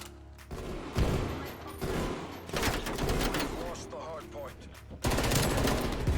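Gunfire in Call of Duty: Black Ops Cold War, with loud bursts of automatic shots and sharp impacts coming in waves over a player's voice and game sounds.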